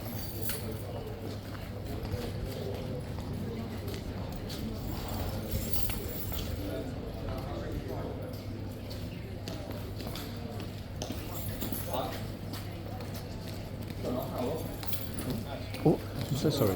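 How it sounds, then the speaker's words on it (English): Life Guard cavalry horses at a King's Guard trophy competition, restless, their hooves clip-clopping in a steady scattered patter through outdoor ambience, with people talking nearby. "The lifeguard horses are the ones that are being a bit restless today"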